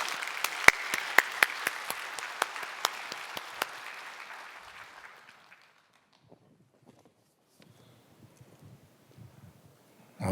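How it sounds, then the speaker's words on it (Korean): A church congregation claps together in a steady burst of applause with a few sharp louder claps, fading out over about five seconds into near silence, with faint movement and rustling afterwards. "우리 최원빈 집사님 나오실 때 우리 박수로 맞이해 주시기 바랍니다."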